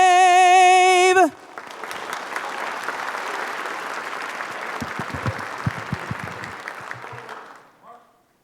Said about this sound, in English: Another round of applause for our honor guard and for Karen Lee Albert.